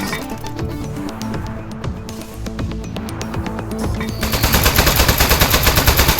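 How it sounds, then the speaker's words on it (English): Rapid automatic fire from the desk gun in the game Aperture Desk Job, a dense repeating burst that grows louder and more insistent toward the end over a busy electronic game backdrop. "And you shoot with the right trigger like normal."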